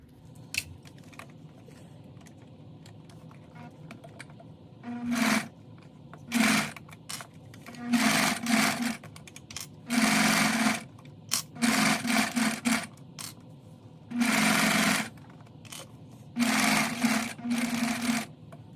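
A sewing machine top stitches a vinyl bag strap in repeated bursts of rapid whirring, each a second or two long, separated by quiet pauses as the fabric is repositioned, close and fairly loud.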